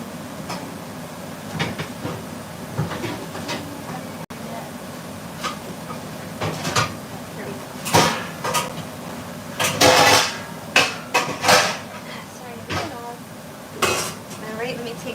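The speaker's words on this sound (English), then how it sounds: "this is when I take it off of the pan and put it in the strainer" Metal pan clatter and scraping utensils while cooked food is shifted from a greasy pan into a strainer, with repeated sharp clanks that grow busier in the second half, under intermittent talk.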